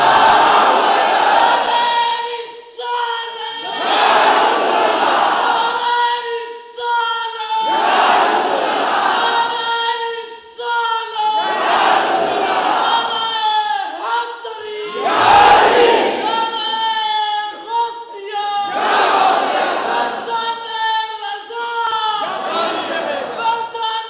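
A large crowd at an Islamic sermon chants religious slogans in loud, regular call-and-response bursts, with about six surging shouts that rise and fall across the stretch and brief dips between them.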